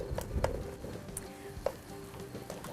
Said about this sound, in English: So just go ahead and brown the meat and stir in the spices.